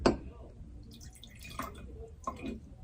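A small amount of water poured into the bottom of a wine glass, heard as a few soft splashes and drips in quick succession, close and quiet, with a person talking around it.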